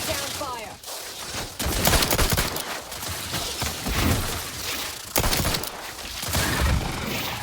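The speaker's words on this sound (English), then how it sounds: "Let's fire a shot and see if we can draw them out." Gunfire from a firefight in the video game The Outer Worlds 2, with dense overlapping shots and crashes mixed with game dialogue and effects, loud and continuous throughout.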